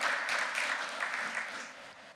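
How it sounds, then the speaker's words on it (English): Audience applause at a scholarship ceremony for essay competition winners, a steady wash of crowd clapping that slowly fades toward the end. "let's just do another big round of applause for everyone up here"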